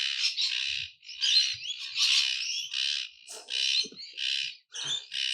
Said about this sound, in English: seagulls going crazy